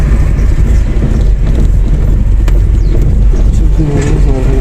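A car running on gasoline fed through a home gas canister setup, its engine droning loudly and roughly up close with steady low rumble and slight revving throughout.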